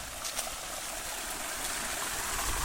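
Steady rushing and babbling of water flowing in a stream through a forest, constant and fairly close, with no voices.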